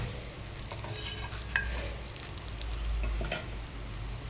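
Dill roti cooking on a hot iron tawa, a soft steady sizzle and crackle with faint stirring scrapes and a brief metallic tick, close and continuous.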